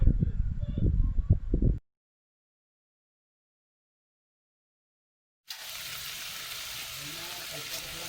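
Okra and eggplant frying in a pan for pork pinakbet, a loud sizzle with stirring clatter at first, then a gap of silence before a steady, softer hiss of frying resumes.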